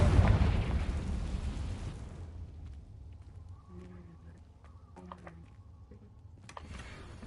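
Confringo fire spell blast in the video game Hogwarts Legacy: a loud, booming burst at the start that fades away into quiet game ambience with faint chimes.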